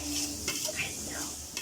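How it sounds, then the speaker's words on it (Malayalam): Masala with turmeric powder fries in a pan, a soft sizzle under metallic scraping and clinks from a stirring spoon, brief and close. "ഇത്തിരി മഞ്ഞൾ പൊടി, എല്ലാം കൂടി അങ്ങോട്ട് നല്ലോണം മൊരിയിക്കുക."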